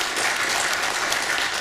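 Audience applause, a dense patter of many hands clapping at an even level for a short burst, with no speech over it.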